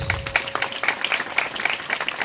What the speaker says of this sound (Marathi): सगळ्यांनी टाळ्या वाजवायच्या ते थोडेस